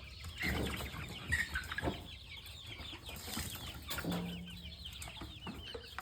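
Chickens cluck and murmur continuously at close range, with occasional sharper calls and some rustling, no speech.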